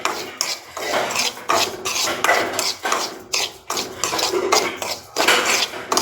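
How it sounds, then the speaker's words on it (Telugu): Dry semolina (rava) roasting in a pan, stirred with a spatula in steady, repeated scraping strokes that sound close and fairly loud, with no talking. "రవ్వ ఏగుతూ ఉంటుంది"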